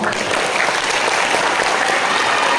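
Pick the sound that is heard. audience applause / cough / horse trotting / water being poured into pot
audience applause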